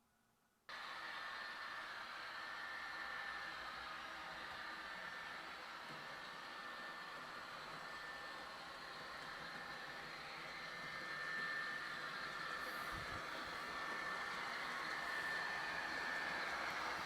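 A model METRA train rolls steadily over a layout bridge, a continuous soft whirring rumble with faint squeals, no voices.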